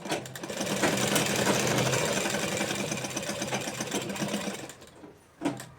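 A sewing machine stitches a ladies' palazzo pant, its needle running in a steady, loud mechanical whir for about five seconds before slowing, with a brief final burst of stitching.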